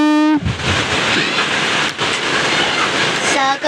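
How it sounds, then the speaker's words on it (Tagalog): Heavy rain in the game Brookhaven pours in a dense, continuous hiss, briefly broken by short tonal beeps at the start and end. "Lakas ng ulan."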